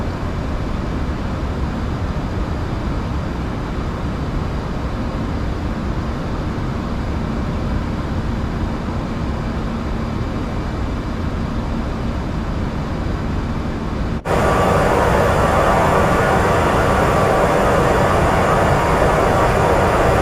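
A Lufthansa Airbus A340-300 in Microsoft Flight Simulator 2024 roars steadily down the runway and climbs out, a dense, continuous engine rumble that swells louder partway through.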